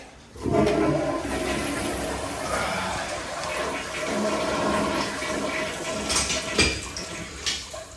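A wall-mounted toilet flushes while a newly replaced gasket is tested, a loud close rush of water that churns steadily for several seconds and then tapers into gurgling refill.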